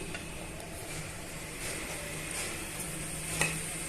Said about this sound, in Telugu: 1 టేబుల్ స్పూన్ ఆవాలు, 1 టేబుల్ స్పూన్ జీలకర్ర, 1 టేబుల్ స్పూన్ పచ్చిశనగపప్పు, 1 టేబుల్ స్పూన్ మినపప్పు వేసుకొని దోరగా వేయించేసుకోవాలి